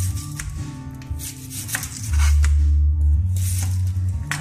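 An onion being cut with a knife in a home kitchen, a few close, short blade strokes and scraping rubs against the board, with a low steady rumble in the background and no speech.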